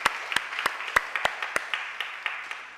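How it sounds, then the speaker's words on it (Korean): A church congregation applauding for the students, a brisk rhythmic clapping of many hands with regular louder beats, fairly close in a room and without speech over it. "우리 학생들을 위해서 박수 한번 해줘요."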